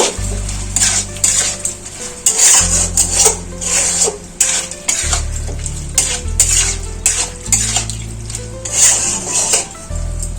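A spoon scrapes and clinks around a pan while chili sauce and soy sauce are stirred in for chicken fried rice. The stirring is loud, close and rhythmic over a steady low stove hum, with no voices.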